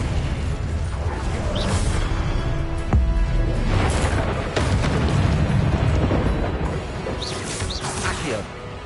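Confringo spell blasts in the video game Hogwarts Legacy: dense, rumbling bursts of magic and impact that run almost continuously, with a sharper crack near the middle, all loud and close.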